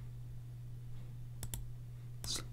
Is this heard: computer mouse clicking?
yes